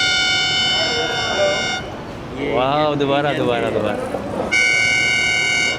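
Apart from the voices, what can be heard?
hand-held horn being blown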